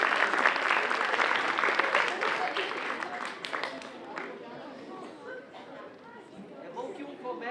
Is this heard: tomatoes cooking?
no